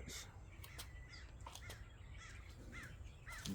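Several crows caw outdoors, short harsh calls scattered across a steady low background rumble, moderately distant and fairly faint.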